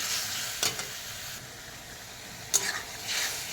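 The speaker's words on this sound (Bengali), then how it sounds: "এখন আমি মশলাটা দিয়ে দিলাম। সাথে রয়েছে টমেটো, তো এটাকে দিয়ে আমি ভালো করে কষিয়ে নেব" Spice masala and tomato fry in a pan for mutton curry, a soft continuous sizzle broken by a few sharp scraping stirs of the spoon, close by and with no voices.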